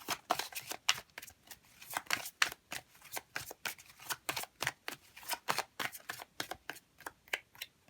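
A deck of oracle cards shuffled by hand in quick, rhythmic riffling bursts, close and fairly quiet, with no speech.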